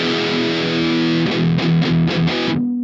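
A sustained distorted chord on an 8-string electric guitar through a Crucifixion Distortion pedal rings out, then several quick choppy strums before the sound cuts off abruptly.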